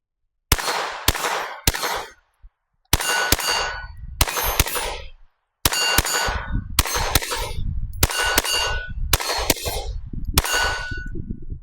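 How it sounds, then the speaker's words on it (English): A Taurus TX22 Gen 2 pistol fires about a dozen sharp shots, some in quick pairs and some spaced apart. Each crack is followed by a bright metallic ring. "let me go ahead and do some more shooting"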